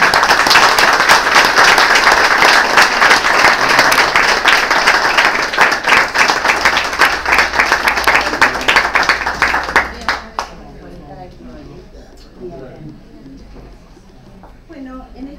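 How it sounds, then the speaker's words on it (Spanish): Sustained audience applause at a ceremony, a dense wash of many hands clapping loudly for about ten seconds before abruptly thinning into faint scattered claps and room murmur. "les pido un nuevo aplauso para él."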